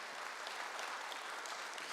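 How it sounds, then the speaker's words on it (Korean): A church congregation applauds during a Sunday worship service, a faint, even hiss of many hands clapping from a distance with no breaks. "박수."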